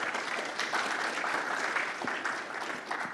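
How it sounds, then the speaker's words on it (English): A conference audience applauds a speaker being introduced, steady dense clapping throughout with no voices over it. "Please give him a round of applause."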